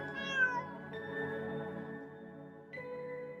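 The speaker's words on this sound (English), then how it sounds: "but she was a smart cat" A cat in a video game meows one long drawn-out call, steady and clear over quiet game background music, without speech.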